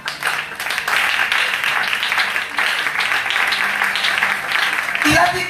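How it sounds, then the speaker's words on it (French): A church congregation applauds loudly and cheers in continuous clapping that holds steady throughout, with voices mixed into the noise and a sharp knock near the end. "Acclame très fort."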